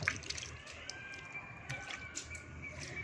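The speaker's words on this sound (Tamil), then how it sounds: "தண்ணி லீக்கால ஒன்று ரெண்டு சொட்டுது" A leak lets water drip in small, scattered drops, a faint and steady patter of close plinks that continues throughout without any talking.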